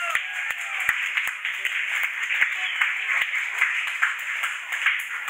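Concert audience clapping in a bar, a dense, steady patter of many hands with sharp individual claps standing out, sustained throughout without a pause.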